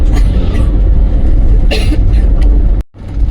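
A GMC vehicle rumbles along a worn road in Morocco near Assilah, a heavy, close engine and tyre roar that swells with a brief burst midway before cutting off abruptly near the end.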